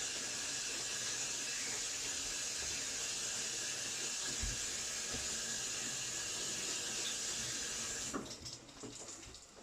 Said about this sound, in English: I'm just going to give this a rinse